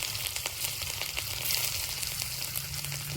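Grated ginger sizzles in hot oil in a wok, alongside black cumin and a pinch of asafoetida, making a steady close crackling fry that runs the whole time with no talk over it.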